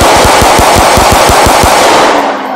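Rapid automatic gunfire from a Roblox police roleplay shootout, a loud, dense stream of fast shots crackling for about two seconds before cutting off abruptly.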